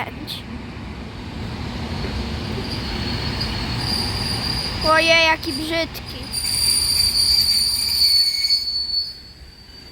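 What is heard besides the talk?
Regio passenger train from Zawadzkie, wheels squealing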